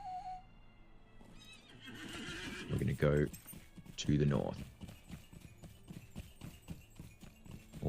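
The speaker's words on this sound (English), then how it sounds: "So let's mount up onto our horse." A horse in Lord of the Rings Online gives a bright whinny, followed by a steady clip-clop of hooves as it is mounted and ridden, with someone talking over the sounds.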